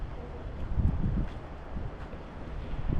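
Gusty wind buffets the microphone with low rumbling bursts, rising and falling, over a faint outdoor background in Progreso.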